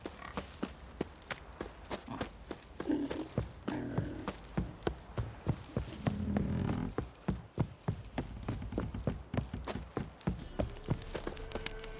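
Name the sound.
horses clip-clopping in video game The Witcher 3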